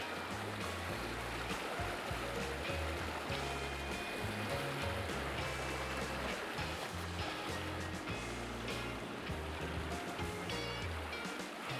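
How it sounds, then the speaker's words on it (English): A small fresh creek runs into a river among big logs, giving a steady, continuous rush of flowing water that holds an even level throughout, with low churning and brighter splashy texture on top. "Little fresh creek coming in, big logs."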